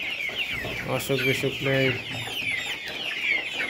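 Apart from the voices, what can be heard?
layer chickens clucking in farm shed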